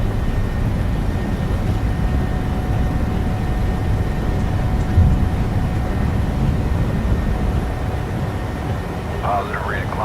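Airliner engines roar steadily through a takeoff roll in Microsoft Flight Simulator 2020 with a 45-degree crosswind, a continuous loud rumble with a voice speaking over it.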